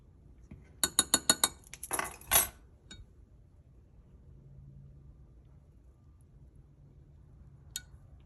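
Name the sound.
scooper clinking while measuring holographic flake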